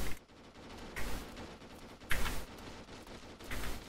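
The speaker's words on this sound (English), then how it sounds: "That firing we're hearing is definitely them." Airsoft guns firing during an outdoor woodland skirmish, with a few short bursts of rapid shots spaced across the clip at moderate distance, against a background of outdoor ambience and no talk.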